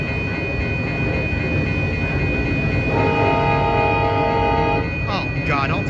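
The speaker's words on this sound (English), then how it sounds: "here comes ACE train number 5, arriving here at Santa Clara, Great America" An ACE commuter train pulls into Santa Clara Great America station, a steady rumble of cars carrying through while a sustained multi-tone horn sounds for about two seconds midway, with voices over the top.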